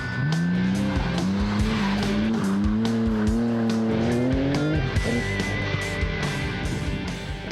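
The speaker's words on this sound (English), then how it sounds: "There was plenty of tyre squealing though, and the odd piece of sideways action." Rally cars circling a skid pan at a Victoria rally event, tyres squealing in long rising and falling wails over loud revving engines, continuous and close.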